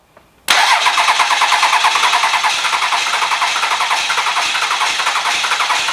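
A 12-valve Cummins diesel on an engine stand cranks briefly and fires, settling into a loud, close, steady clattering idle with a rapid even pulse; no voices.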